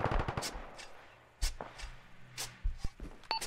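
Gunfire in the military video game Arma 3: a quick burst of rapid shots at the start, then scattered single sharp cracks, some close and some more distant, with no talk.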